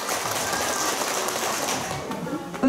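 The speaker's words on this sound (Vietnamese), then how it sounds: "Xin tất cả nổ một tràng pháo tay để ghi nhận kết quả." A village women's association meeting in Vietnam breaks into applause, a dense steady wash of many hands clapping at moderate distance, faintly mixed with murmuring.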